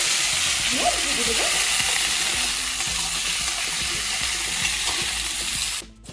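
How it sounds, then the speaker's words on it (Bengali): Mango pieces frying in oil with five-spice and dried chillies, a continuous close sizzle with light stirring scrapes, ending with a brief clatter near the end. "এটার থেকে একটা মিষ্টি গন্ধ বেরোলেই আমি আমগুলোকে ভাজবো"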